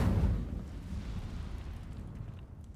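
Incendio fire spell cast in a Hogwarts video game: a loud low burst at the start that trails into a rumbling, roaring fire blast fading over a few seconds, alone.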